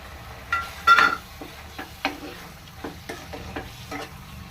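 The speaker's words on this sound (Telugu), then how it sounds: "నెక్స్ట్ మనం పన్నీర్ కదండి, పన్నీర్ ముక్కలు కూడా వేసుకుందాం." Fried potato and paneer pieces going into a masala curry in a pan: soft sizzling under a series of spoon scrapes and light clinks, roughly one every half second, close and moderate.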